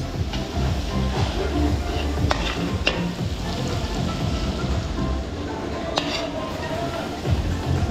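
Garlic and onion sautéing in butter in a catering kitchen produce a loud, dense sizzle with occasional clinks of a utensil against the pan.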